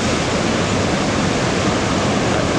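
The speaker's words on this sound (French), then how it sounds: "Voilà, les vagues," Ocean surf at the Anglet club spot during a body surf competition fills the air with a loud, continuous wash of breaking waves, a dense steady hiss with no distinct pauses.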